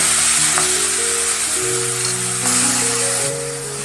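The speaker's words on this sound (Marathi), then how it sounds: "फोडणी व्यवस्थित खमंग अशी मेथी घालताना असा आवाज आला पाहिजे" Fresh fenugreek leaves land in a hot, well-browned tempering with turmeric, red chilli and asafoetida, setting off a loud, continuous hiss and crackle that stays strong throughout before easing slightly at the end, no voices.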